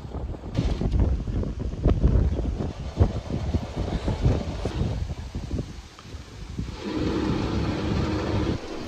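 Steady wind buffets the microphone beside a canal with broad low rumbling gusts, rising and falling throughout, with some rustling in the background.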